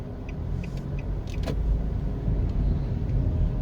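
A car drives through the residential streets of Mona Heights in Kingston, Jamaica, its engine and road rumble a steady, loud low drone from inside, with faint rattles and a brief higher squeak midway.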